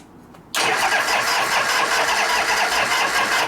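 A 1973 Harley-Davidson FX 74ci Shovelhead engine catches suddenly after a quiet moment, then runs on with a loud, rough, steady idle rumble close by.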